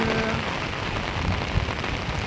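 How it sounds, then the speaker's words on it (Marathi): Heavy monsoon rain in the Konkan drums continuously on surfaces nearby, a loud, unbroken wash of falling water with no voices. "कारण हे आता पाऊस भरपूर आहे इकडे कोकणात"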